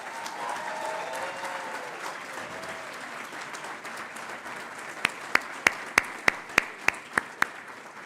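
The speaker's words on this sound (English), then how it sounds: "Could we all just clap for the graduates of the MSc in Marketing?" An audience at a university graduation ceremony claps for MSc in Marketing graduates: a steady wash of applause that thins, then a few loud, evenly spaced single claps ring out near the end.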